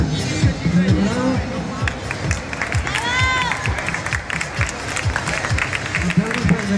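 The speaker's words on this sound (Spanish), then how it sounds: "Aplausos para Bravo" A crowd at a live event claps and cheers for a performer called Bravo, a dense burst of applause and shouts with an announcer's voice and crowd babble mixed throughout.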